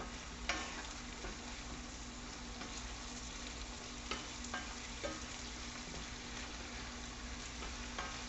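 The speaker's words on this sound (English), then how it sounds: "we are going to stir our mixture up here" A Philly cheese steak burger mixture is stirred, giving a quiet, even hiss with a few faint scraping clicks at irregular moments and no speech.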